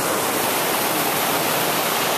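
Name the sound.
water running down hillside near waterfall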